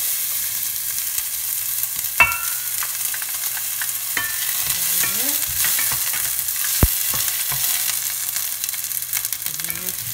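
Onion goes into hot oil in a pan for black pasta with anchovies and olives, a sizzle broken by utensil scrapes, clatters and one sharp knock.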